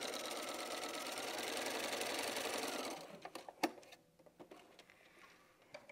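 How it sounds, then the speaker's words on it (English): A sewing machine stitches quilt pieces in a fast, even whir for about three seconds, then stops, leaving a few soft clicks and handling sounds nearby. "Now I'm going to sew on the opposite side."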